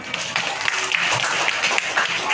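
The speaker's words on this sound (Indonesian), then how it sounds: "Tepuk tangan untuk kita semua." Third-grade elementary class clapping and applauding together, a short burst of dense, irregular hand claps with some voices mixed in.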